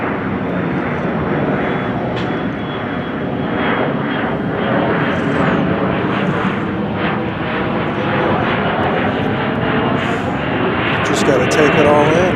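Alaska Airlines jet airplane at Chicago O'Hare airport, a loud steady engine roar filling the whole stretch, with faint background noise and no clear talking.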